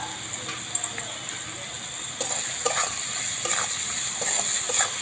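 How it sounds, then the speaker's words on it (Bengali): Soybean curry with salt, turmeric, chilli powder, ginger paste and sugar being stirred in a pan, giving a steady soft sizzle with several brief scraping strokes of the spoon, close and moderately loud. "সব কিছু দিয়ে খুব ভালো করে নাড়াচাড়া করে নেবো"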